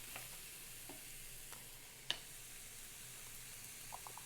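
Celery and onions sautéing in bacon grease in a pan, a very faint, quiet sizzle with occasional soft stirring clicks and one sharp tap.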